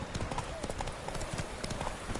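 Hooves of Roach, the horse in a PS4 game, clip-clopping in a quick steady rhythm across a short stretch, fairly close and moderately quiet.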